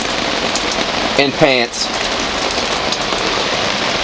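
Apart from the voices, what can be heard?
heavy rain storm on a boat at anchor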